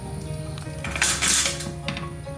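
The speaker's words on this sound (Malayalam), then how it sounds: "ഈ പുക വരുന്നതോടുകൂടി നമ്മൾ നന്നായി മൂടി വയ്ക്കുക." A metal lid is set on a pot of chicken tikka biryani, giving a short clattering clank followed by a lighter clink, close by and without speech.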